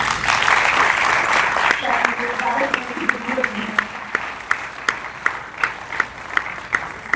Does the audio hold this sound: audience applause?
yes